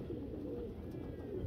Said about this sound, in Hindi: क्योंकि फाइनल डे में 6 कबूतर आज पकड़े थे जलील माची ने